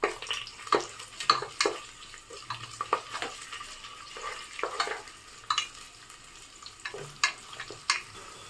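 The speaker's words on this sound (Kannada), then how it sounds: "ಹಾಕ್ಕೊಂಡು ಲೋ ಫ್ಲೇಮಲ್ಲಿ ಈರುಳ್ಳಿದು ಬಣ್ಣ ಬದಲಾಗೋವರೆಗೂ ಫ್ರೈ ಮಾಡ್ಕೊಳ್ಳಿ" Sliced onions fry on a low flame for a vegetable pulao, a quiet sizzle under repeated rhythmic spatula scrapes and stirs close by.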